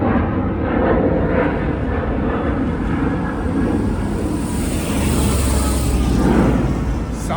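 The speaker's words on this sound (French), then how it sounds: "attendez que l'avion il passe." An airplane passing overhead near an airport, a loud, continuous low roar and rushing hiss that swells and holds steady for several seconds, filling the whole clip without speech.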